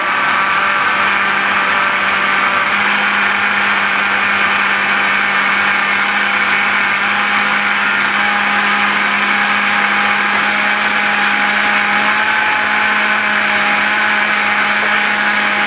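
A blender runs continuously at a steady, loud whir with a constant motor hum, emulsifying pea and mint gazpacho as olive oil is added, no voices over it.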